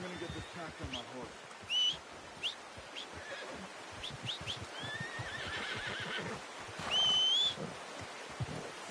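Horses neigh and whinny in Red Dead Redemption 2, two clear calls standing out against outdoor game ambience with hoof clip-clops and soft rustling.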